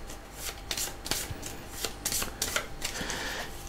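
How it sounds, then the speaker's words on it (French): A small deck of five special-backed playing cards is shuffled by hand, giving quick rhythmic riffling and sliding bursts, close and fairly quiet, with no voices. "bien mélanger nos 5 cartes"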